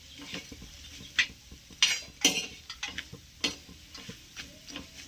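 A spoon scraping and clinking in a pan as crumbled bhakri pieces are stirred and sautéed in oil, with irregular close metallic taps over a soft steady sizzle.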